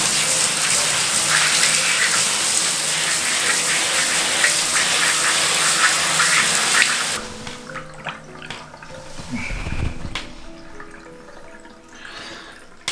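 Running water gushes steadily over a black and white cyanotype print being rinsed for about seven seconds, then cuts off, leaving quieter drips and handling noises.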